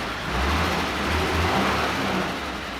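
Carbureted Willys jeep engine under restoration, revved in slow swells with a rough low rumble, close and steady for a few seconds with no talk.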